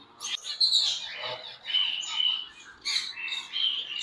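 Pet cockatiels and lovebirds chirp and squawk in short, shrill bursts, several calls overlapping close by, with brief pauses between flurries.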